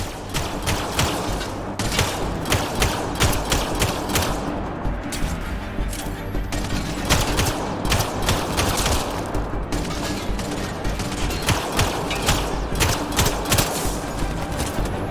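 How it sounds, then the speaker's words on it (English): Dense, continuous gunfire in a Mass Effect: Andromeda firefight, rapid bursts and shots overlapping steadily at close range for the whole stretch with no pauses. "Sarah, shoot them!"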